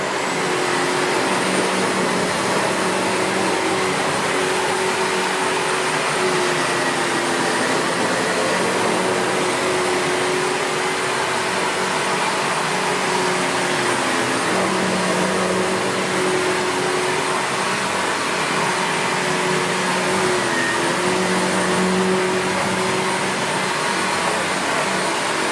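A 2013 SEBO Felix Rosso upright bagged vacuum cleaner runs at full power with a steady, loud whining drone that holds nearly unchanged throughout.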